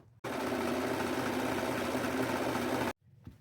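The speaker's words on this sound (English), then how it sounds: "Now I'm fixing to run these through my serging machine right here, because they're fraying pretty bad" A serger sewing machine finishes the frayed edges of boho pants in one loud, steady whirring run of about three seconds, starting and stopping abruptly.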